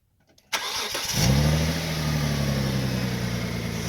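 A car engine cranks briefly and catches, then settles into a steady, loud idle close by. The car's recently installed power steering pump had been leaking.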